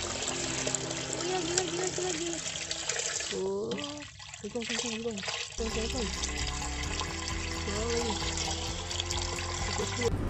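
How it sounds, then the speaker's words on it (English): Continuous rushing water pours and splashes steadily into the outer ring of an infiltration test, loud and close, with a brief dip midway before the flow resumes. "Start the test by pouring the water into the outer ring until the depth is 10 cm."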